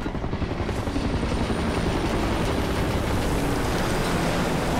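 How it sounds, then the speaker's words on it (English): A helicopter sets down in Call of Duty Ghosts, its rotor a loud, steady, dense thumping wash that fills the scene without a break. "Chopper's landing."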